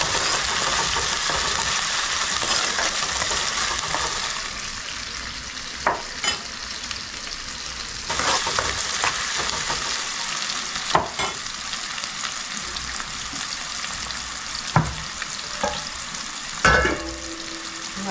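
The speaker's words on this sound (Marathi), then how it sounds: "कढीपत्ता, चांगलं कांदे ना भाजा करायचं" Onions and curry leaves frying in a pan, a steady close sizzle with occasional stirring scrapes and clinks of a utensil against the pan, no talking.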